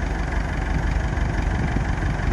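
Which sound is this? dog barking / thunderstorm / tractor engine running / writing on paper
tractor engine running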